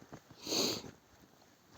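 A short burst of close, quick sniffing, like a hunting dog nosing at the ground on a snowy wild boar hunt, with faint outdoor background.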